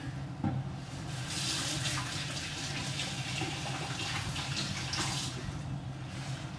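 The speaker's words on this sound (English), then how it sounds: "wash my hands." Tap water runs steadily into a sink while hands are washed beneath it, a close continuous splashing rush with small shifts as the hands move through the stream.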